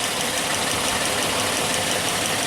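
A warmed-up car engine idles steadily during an ignition timing check, a continuous dense rumble at an even level with no voices.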